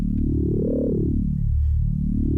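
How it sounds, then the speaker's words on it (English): A thick, growling FM synth bass note slides up, dips down and rises again, loud and continuous with a throaty, buzzing tone and no voices. "kind of a throaty sound, which is like my favorite sort of bass quality"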